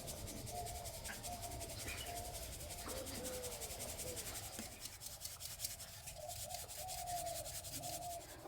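Dry atap rice flour being sifted through a sieve into a bowl in a home kitchen, a soft continuous scratchy rubbing that stays faint and steady throughout.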